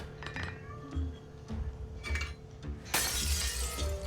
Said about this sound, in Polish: Zapomniałem, tutaj musimy rozbić okno.